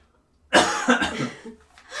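A single close, abrupt cough bursts out after a brief silence, followed by a few rougher throat-clearing fragments that trail off.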